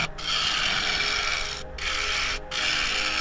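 A woodturning tool cutting a claret ash snack bowl, about 8 inches across, on a lathe gives a loud, continuous rough buzzing rasp full of chatter vibration, broken by two or three brief gaps as the cut lifts.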